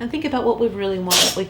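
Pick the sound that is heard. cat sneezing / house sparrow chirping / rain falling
cat sneezing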